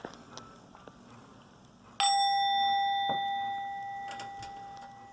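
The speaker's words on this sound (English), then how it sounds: "I like my little bell." A small bell is struck once, a bright ringing tone that rings out and slowly decays over several seconds after some faint handling noises, close and alone.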